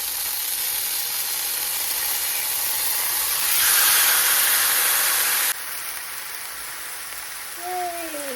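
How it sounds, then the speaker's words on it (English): Steak sizzles in a hot cast iron skillet as a loud, steady hiss that swells when the meat is set down, then settles into a slightly quieter, continuous crackling sizzle. "now we're ready to put the steaks onto the grill, or I'm just using a cast iron skillet here"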